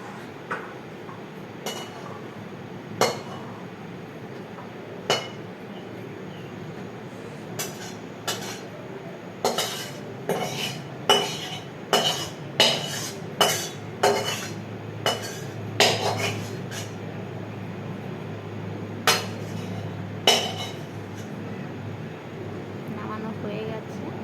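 A wok is lifted off the stove with tongs and spicy mutton curry is poured into a bowl, giving a run of sharp metallic clanks and scrapes, some quick and clustered, over a low steady kitchen hum.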